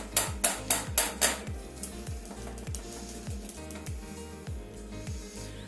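Kefir grains are tapped out of a container into a cooking pot. Five quick, sharp knocks come first, followed by softer scattered taps and low thuds, close by and with nobody speaking.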